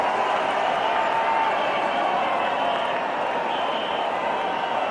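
A cricket stadium crowd at an India versus West Indies Champions Trophy match cheers and applauds after a well-timed shot, a dense, sustained roar with clapping that fills the whole stretch.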